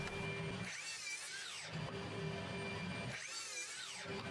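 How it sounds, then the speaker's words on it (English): Miter saw cutting wood to repeatable lengths, with two whining sweeps of the spinning blade rising and falling over a constant loud workshop hum. "put a piece of masking tape on the fence of my miter saw so that I can make repeatable cuts at consistent lengths"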